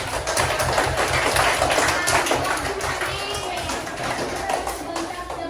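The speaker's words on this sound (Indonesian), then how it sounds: "Kita beri tepuk tangan untuk kelompok 3." Group applause for a presenting team in a classroom, a steady dense patter of many hands clapping together throughout, fairly loud and close.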